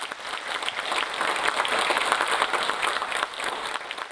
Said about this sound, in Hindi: और आप अगर तालियां बजा दें तो बड़ा अच्छा लगेगा।